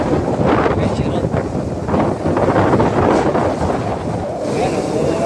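Strong wind buffeting an outdoor microphone, loud rumbling gusts that rise and fall across the whole stretch, with a faint voice now and then underneath.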